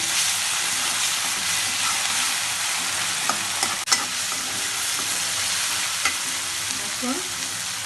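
Ginger garlic paste frying in a pan over lowered heat, a steady close sizzle throughout with a few sharp clinks of a spoon against the pan near the middle and end.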